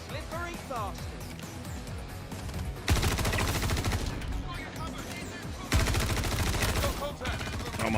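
Video game sniper gunfire comes in two loud bursts of rapid shots, each cutting in sharply over the background game sounds. Players talk during the quieter stretches.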